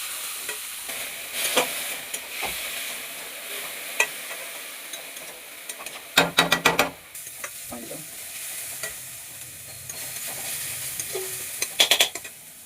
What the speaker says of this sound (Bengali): ওই তেলের মধ্যে রসুন কুচি আর আদা কুচিটাকে একটু ভেজে নেব